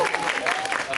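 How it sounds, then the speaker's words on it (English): Audience applause in an anime convention panel room, a dense steady patter of many hands clapping close by, with voices and a faint whoop audible above it. "Clap for that."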